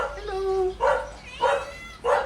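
A dog barks in three or four sharp bursts at a steady pace, close and loud, with a brief whine before the first bark and quiet household background in between.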